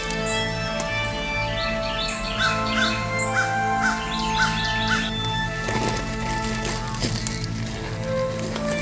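Florida crows caw in a series of repeated, evenly spaced calls at a fair distance, heard over a continuous tonal music bed.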